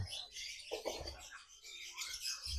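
A male lovebird kept in a hanging cage gives a few faint, scattered chirps and short calls at close range, with quiet pauses between them and no talking.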